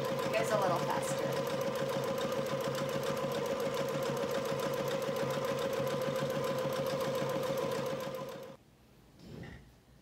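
A sewing machine runs fast and steady, sewing long basting stitches through two fabric layers of a child's apron, a continuous rapid whirring chatter for about eight seconds before stopping abruptly, followed by a faint brief sound.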